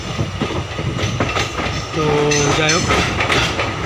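Train rolling through hilly country near Haflong, Assam, about to enter a tunnel: a steady loud rumble of moving rail cars with a brief horn-like tone midway, a voice talking over it.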